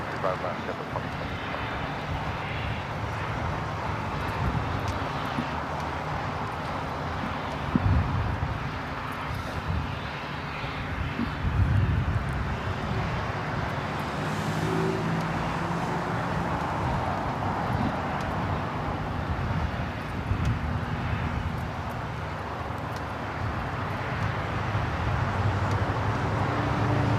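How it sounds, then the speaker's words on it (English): Wind gusting at LAX near the runways, heard as a steady broadband roar that buffets the microphone and continues unbroken for the whole stretch, with a distant aircraft-like rumble mixed in. "that wind started blowing again"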